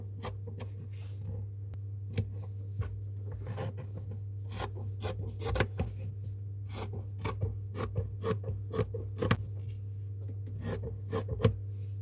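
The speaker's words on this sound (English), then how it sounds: "Then cut it by the scissors" Scissors snip steadily through fabric up close, trimming around a crocheted bag, a series of short crisp cuts over a low steady hum.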